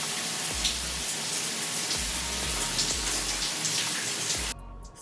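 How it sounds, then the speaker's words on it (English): Water runs steadily from a tap while hair extensions are washed at home, a close, continuous splashing hiss that cuts off abruptly just before the end. "And now we're gonna go ahead and wash our hair."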